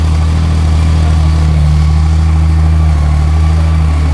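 A superbike's inline-six engine idles loud and close, a smooth, steady low rumble that holds without change from start to finish.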